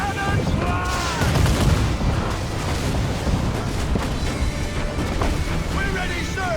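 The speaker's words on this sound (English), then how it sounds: "Uncork the cannons, lad!" Ship cannons fire in Assassin's Creed IV Black Flag, heavy booming blasts rolling one into another in a dense, loud barrage, with shouted voices of the crew heard over the gunfire.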